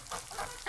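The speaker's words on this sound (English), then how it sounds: "is gannets, all that noisy gannets sitting on the water going to each other as they do, makes a really big noise" Gannets sitting on the water call noisily to each other, a short burst of harsh, close squawks in under a second.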